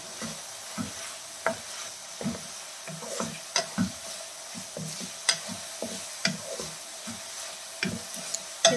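Chicken pieces for chicken gobi cooking and being stirred in a pan: a soft sizzle runs under a steady series of sharp spatula scrapes and knocks, close and fairly regular.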